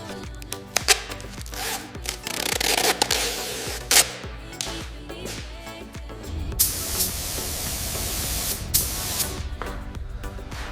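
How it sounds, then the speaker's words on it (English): A spray can hisses as a red base coat goes onto a restored Lightning McQueen toy car, in repeated bursts of steady spray with short pauses and a few sharp knocks, fairly loud and close, no talk. "finally spraying the vibrant red base coat"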